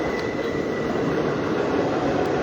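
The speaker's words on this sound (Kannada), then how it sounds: "ಇದು ಹುಬ್ಳಿ ಟ್ರೈನ್ ಇದು" A Hubli train passing close by, a loud continuous rumble and roar of rolling wagons with a faint high whine, sustained without letup.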